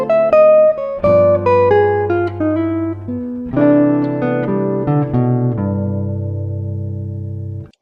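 Electric guitar plays a jazz line built from chord extensions, with clean, distinct plucked notes and chords ringing in phrases, a short pause midway, then longer sustained chords fading at the end.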